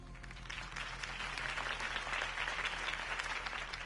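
Faint, steady applause from a crowd follows a campaign speech for Harvey Dent in a Batman game, a dense wash of clapping lasting a few seconds.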